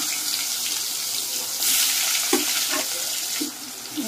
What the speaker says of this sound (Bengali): তো এই যে তেল গরম হয়ে গেছে পুরো, তো চলো পনিরটা ভেজে নিচ্ছি